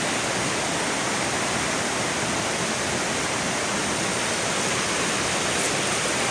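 Class 5/6 river rapids rush below abandoned homes, a steady, dense roar of churning whitewater filling the air without a break, loud and continuous with no voices.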